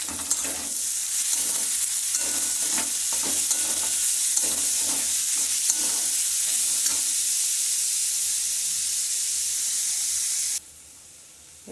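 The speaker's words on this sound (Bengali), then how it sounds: "রসুনটা ভাজা হয়ে গেছে এবার এটা পেঁয়াজটা দিয়ে ভেজে নেব" Onion paste fries in a pan of hot oil after garlic, giving a steady loud sizzle with repeated scraping stirs through the first part, then the sizzle carries on alone before cutting off abruptly.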